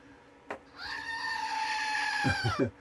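A goat gives one long, loud wavering bleat close by, ending in a few short stuttering pulses, after a brief knock at the start; no talking.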